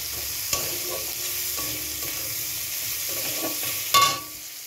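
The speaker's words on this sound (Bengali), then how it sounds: "এইটাকে ভালো করে ভাজি। একবারে পুরো লাল করে ভাজবো না, এরকম করে ভাজলাম।" Food, including chopped tomatoes, fries in a pan with a continuous sizzle and soft stirring, and a sharp knock of a utensil near the end.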